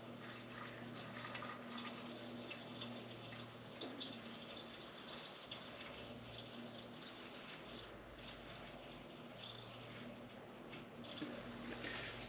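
Liquid trickles and splashes as old fuel is poured off the top of a vintage Italian Alpina 070 two-stroke petrol chainsaw container, faint and continuous without talking.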